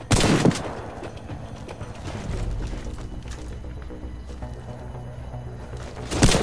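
Shotgun and weapon fire in the console shooter Warface on Xbox One, with heavy blasts near the start and end and scattered shots and game action in between, loud and close.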